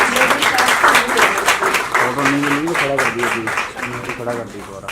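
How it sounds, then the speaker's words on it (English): Audience applause for an award winner at a spiritual and wellness awards event, a steady wash of clapping with a voice speaking over it. "Can we have a big round of applause, please?"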